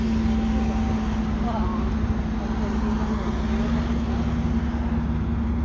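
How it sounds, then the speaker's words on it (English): Dennis Trident Euro 2 double-decker bus, a former Stagecoach vehicle on a Manchester sightseeing run, its engine a steady low drone with a strong hum running throughout, heard from onboard with road noise. "Beautiful, and does that noise on the trident. Beautiful trident engine."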